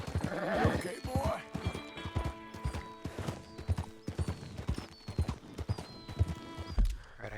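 A horse gallops in the video game Red Dead Redemption 2, its hooves beating a rapid, rhythmic clip-clop with a whinny near the start, close and loud over faint background game sounds.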